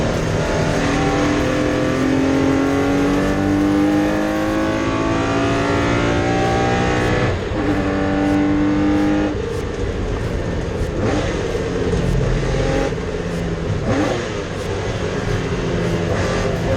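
Race cars, including a Porsche 911, roar loudly at the start of Race 2 in the 2023 Rock Up Racing season, engines revving and shifting in a dense, continuous wall of sound with rising pitch sweeps and no talking.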